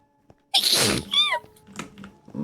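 A single sharp sneeze bursts out close by, followed by a short squeaky breathy sound and quiet rustling afterward.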